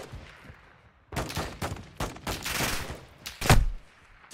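Gunfire in the Modern Warfare II DMZ shooter game, a string of sharp shots and rapid bursts after a quiet start, loud and close with a heavy final blast.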